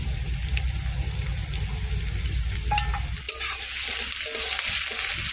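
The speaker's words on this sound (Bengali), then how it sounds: "তেল গরম হয়ে গেছে, পেঁয়াজগুলো দিয়ে দেবো" Onions dropped into hot oil for a Bengali prawn dish with ridge gourd, Malabar spinach and potato, giving a loud, steady sizzle with a few sharp spatters and clinks, close and without talk.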